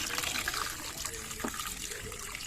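Worms are rinsed under running water, a steady trickle splashing into a container. Faint voices sound in the background.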